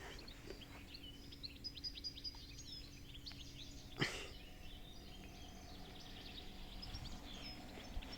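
Birds singing at a beach in Żółtańce, Chełm county, Poland, with many small chirps and whistled calls spread across the scene, faint and fairly distant, plus one brief louder burst midway.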